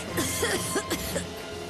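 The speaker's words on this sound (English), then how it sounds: "I've been laid low with this cough." A character in Lightning Returns: Final Fantasy XIII gives a few short, rough coughs close up, over a low steady game soundtrack.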